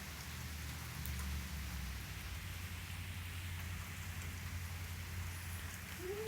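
Steady rain falls on a surface outdoors, a dense, even hiss with a low rumble, fairly faint and continuous, with no one talking.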